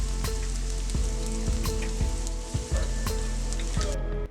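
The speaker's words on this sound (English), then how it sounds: "And I saute this with some really delicious spicy chili oil" Mock scallops and lobster mushrooms sauté in spicy chili oil in a pan, giving a steady crackling sizzle with repeated soft taps and stirring knocks, close and unbroken with no talk.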